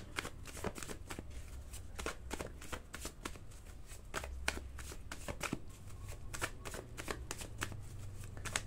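Tarot cards are shuffled continuously, a rapid run of crisp riffling snaps and soft slaps repeating close and steady over quiet background.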